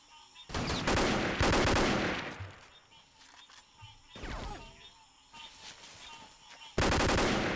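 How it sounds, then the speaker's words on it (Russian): Bursts of AK rifle fire in the Vietnam war shooter game Vietcong, several loud rattling volleys separated by quieter gaps, with distant scattered shots between. "Ага, нет, это АК, слышу."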